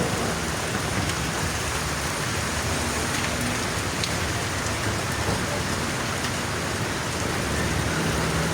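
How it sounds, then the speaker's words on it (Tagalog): Heavy, nonstop rain pours steadily and loudly, a dense unbroken hiss of drops drumming on surfaces throughout. "lakas ng ulan dito"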